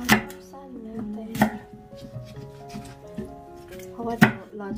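Cabbage for kimchi is cut with a knife on a board, giving a few sharp close thuds at irregular intervals amid soft rustling, with a voice speaking in the background.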